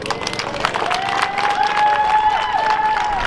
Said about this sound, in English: I hope you'll give her a big welcome, a big round of applause